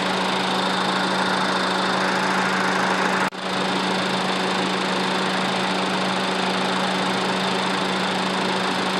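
A car engine idles steadily while its air conditioning is recharged with refrigerant, a constant loud drone with one brief dip partway through.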